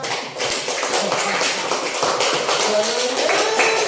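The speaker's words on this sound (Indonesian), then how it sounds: "Tepuk tangan Bapak sekalian" A group of adult teachers in a training session claps after a floor gymnastics forward roll is described, producing continuous, even-toned clapping that stays at a steady level throughout, with a faint voice mixed in.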